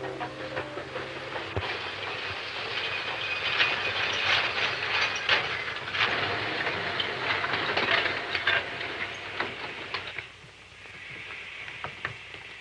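A steam train runs on rails in a 1939 film, giving a continuous rumbling clatter with hissing and rhythmic wheel clicks that grows fuller and then thins out near the end.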